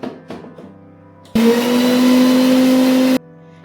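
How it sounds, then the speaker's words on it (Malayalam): A kitchen mixer grinder blends garlic, ginger and green chilli into a paste, a loud, steady whine running for about two seconds in one burst after a few faint clicks and handling noises, with no talking. "നമ്മൾ വെളുത്തുള്ളി ഇഞ്ചി പച്ചമുളക് പേസ്റ്റ് അടിക്കാൻ പോവാണ്"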